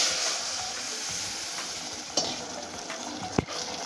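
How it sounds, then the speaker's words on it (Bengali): Mixed vegetables hit a hot pan of oil tempered with radhuni spice, setting off a steady, close sizzle and hiss broken by a few clacks of a utensil. "ফরনটা আমার হয়ে গেছে আমি তরকারিটা এখন ঢেলে দিচ্ছি"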